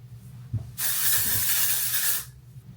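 Amika Undone texture spray hisses from an aerosol can in one steady burst of about a second and a half, close and fairly loud, with quiet room noise before and after.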